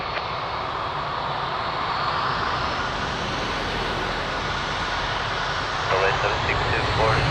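A jet airliner's engines roar steadily at Lisbon Airport, a broad continuous rumble that swells slightly near the end, with faint radio chatter mixed in.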